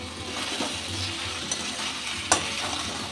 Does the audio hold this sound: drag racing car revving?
no